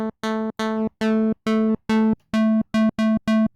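A Caustic 3 synthesizer bassline plays as a hollow, buzzy square wave, repeating about ten evenly spaced detached notes at one low pitch, loud and clean with no talk.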